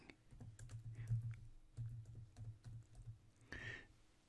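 Quiet typing on a computer keyboard entering a Google search, a short run of soft close key taps in bursts with brief pauses.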